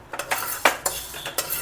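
Dry lentils (chana dal and black gram) roast in a pan on low heat while a spoon stirs them, giving a run of close, light scraping and clinking strokes with short pauses between.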